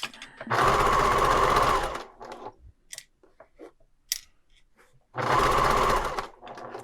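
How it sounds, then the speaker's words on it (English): A sewing machine stitches a fabric seam in two loud, steady runs of rapid whirring, separated by a quieter pause filled with small clicks and handling noises of the fabric. "I'm going to sew all the way down till I get to the edge of the fabric underneath."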